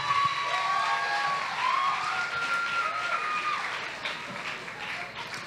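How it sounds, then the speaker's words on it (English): An audience at a teen beauty pageant claps for the delegates, with sustained moderately loud applause that slowly tapers off, mixed with faint cheering and some stage music or tones in the background. "Audience, you're going to give them a beautiful round of applause for all of their hard work"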